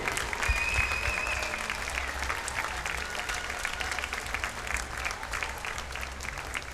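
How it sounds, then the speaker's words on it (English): Steady applause from a crowd at a swimming championship in a Luton pool venue, sustained clapping throughout with a few faint whistles. "So if we could have a round of applause for all of those who have volunteered their time and made this event possible."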